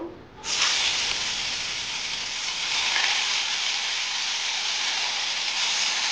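Koi fish dropped into hot oil in a wok erupts into a loud, steady sizzle that starts abruptly after a brief quiet moment and holds a dense, hissing roar throughout.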